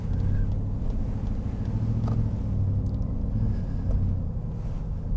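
A 700-horsepower Harley-Davidson edition Ford F-150 pickup cruises through a residential area, its engine a steady low rumble heard from inside the cab, droning evenly with slight swells and no talk.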